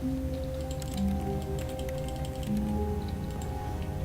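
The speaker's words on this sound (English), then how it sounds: "That's a weird sound it makes. I'm clicking." Quick, light clicks tick irregularly over a steady droning hum in The Stanley Parable video game, the clicks soft and close.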